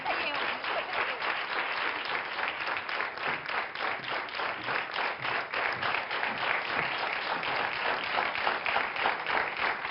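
Studio audience at a Portuguese health talk show gives a sustained round of applause, even and continuous clapping with individual claps faintly distinguishable throughout.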